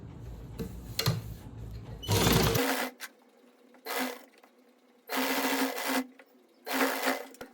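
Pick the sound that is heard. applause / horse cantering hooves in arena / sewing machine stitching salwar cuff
sewing machine stitching salwar cuff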